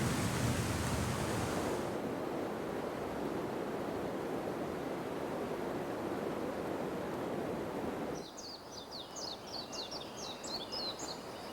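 Steady, full roar of falling water thundering into a Yosemite valley, close and unbroken, with faint birdsong chirping over the rush near the end.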